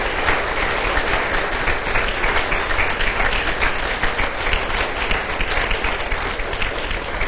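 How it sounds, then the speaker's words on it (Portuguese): A church congregation applauds newly consecrated deacons, a dense and steady roar of many hands that stays loud and even from start to finish, with no talking over it. "dar uma salva de palmas para esses homens e mulheres que trabalham na igreja do Senhor"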